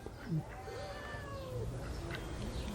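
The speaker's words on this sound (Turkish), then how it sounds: "Burada kedi var." A cat meows nearby at a village house in Turkey with a drawn-out, wavering call, heard over a low background hum.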